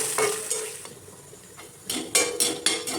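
Chopped ginger fries in a pan while a spoon stirs it, with soft sizzling under a series of sharp metallic scrapes and clinks of the spoon against the pan, close up.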